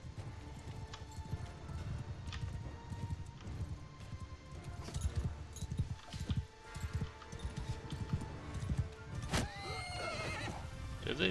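Horses whinny and hooves clip-clop during a battle in Mount and Blade 2 Bannerlord, with distant combat clatter beneath and a sharp neigh standing out near the end.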